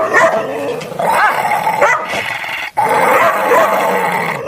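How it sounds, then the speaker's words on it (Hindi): Loud, close dog barking and growling in continuous bursts, with a brief pause midway before the barking resumes. "उन पर भौंकने लगता है।"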